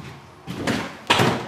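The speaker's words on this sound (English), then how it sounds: "Here's one of our sliding windows. This is a 30 by 30." A 30 by 30 sliding window on a Rockland cargo trailer being slid along its track, two distinct scraping slides ending in firm thuds, close and loud.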